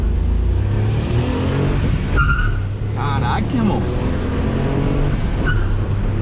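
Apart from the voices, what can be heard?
Ford Ka car accelerating hard through the gears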